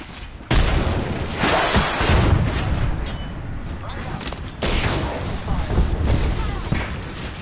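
Frag grenade blasts in the battle royale shooter Apex Legends, two heavy booming explosions a few seconds apart amid ongoing gunfire and game noise, with a voice talking over the action.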